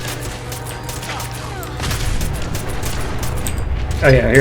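Gunfire in the video game Fallout 4, a sustained rattling burst from a Gatling gun wielded in power armor with booming impacts, loud and continuous, while someone speaks briefly over it.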